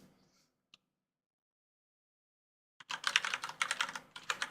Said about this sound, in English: That's going to be too long for typing on that thing.